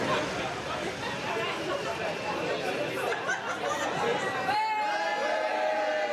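Crowd of cyclists and supporters chattering at the start of a charity cycle ride for a respite house, steady dense babble throughout with a few louder voices and brief laughter rising near the end.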